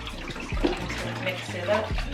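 Purple shampoo is poured and swirled into water in a bucket, producing close sloshing and splashing with short liquid bursts, while a voice is heard in the background.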